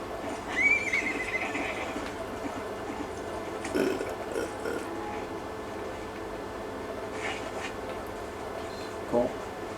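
Horse whinnies and hoof clip-clops in the Red Dead Redemption video game, with a sharp neigh early on and further snorts and hoof sounds at moderate loudness.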